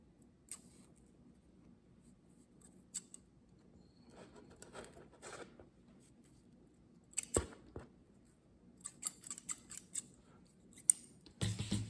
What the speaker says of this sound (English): Now I will just cut end of the thread.